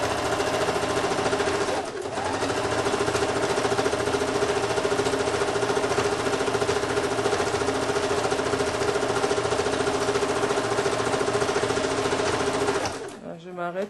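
A sewing machine stitches the elbow line of a sleeve on a women's shirt with a Peter Pan collar, running steadily and loudly for most of the span with a brief pause near the start before stopping at the end.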